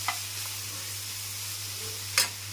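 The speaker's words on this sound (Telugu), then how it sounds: "మొత్తం కలిపేసేద్దాము" Egg noodles being stirred in a frying pan, with a soft low sizzle under two brief sharp scrapes of the utensil, one at the start and one near the end; no talking.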